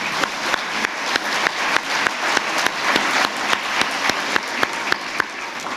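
Lecture audience at a learning and memory lecture event giving a sustained round of applause, dense and fairly loud, with some sharper individual claps standing out in a steady rhythm throughout.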